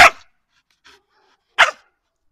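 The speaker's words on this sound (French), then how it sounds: "Tu aboies deux fois." Two sharp dog barks separated by a pause, loud and close, with a faint soft yip in between.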